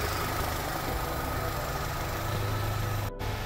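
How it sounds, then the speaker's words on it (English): A Mini Cooper engine idles steadily after a cylinder head gasket replacement while its coolant fan whirs continuously, a close, even hum ending in a brief cutout. "So, you can hear the coolant fan there."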